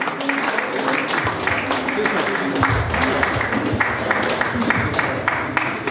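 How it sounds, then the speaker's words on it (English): Audience applause at a Toastmasters club's 100th meeting celebration, a steady wash of clapping from a crowd in a room, sustained and fairly loud throughout with some voices mixed in. "Please give a big round of applause"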